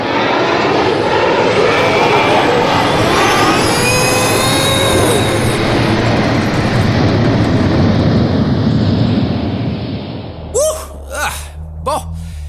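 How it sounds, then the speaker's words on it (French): A cartoon spaceship blasting off, a loud roaring engine rush with rising whines that fills about ten seconds and then cuts out, followed by a few short vocal bursts near the end. "Décollage!"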